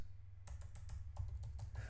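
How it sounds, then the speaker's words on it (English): Soft clicks from a computer keyboard being typed on, a quick irregular run of keystrokes close by with a low background hum and no talking. "I'm gonna start typing."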